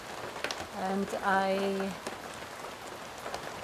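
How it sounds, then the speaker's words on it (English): Rain falls outside as a steady, soft patter of drops on a surface, continuous in the background while someone speaks briefly and a sung tone rises over it. "it's raining, it's a beautiful rain out there"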